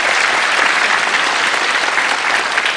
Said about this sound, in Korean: 박수로 좀 환영해 주세요.